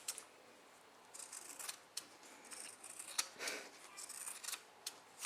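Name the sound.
fabric scissors trimming excess fabric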